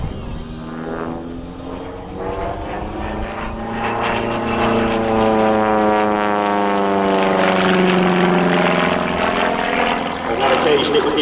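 A Pitts S-1 aerobatic propeller biplane flies overhead, its engine drone rising and sweeping in pitch as it passes close and loud, holding steady for the full length.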